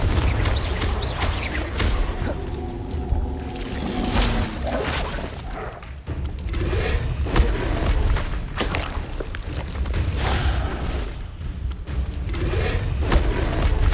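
Confringo explosion spells go off in Hogwarts Legacy among other spell casts, a dense run of booming blasts, thuds and whooshes that comes in quick succession, loud and close, with combat effects layered over one another.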